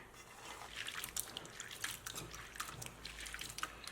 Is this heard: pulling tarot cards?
no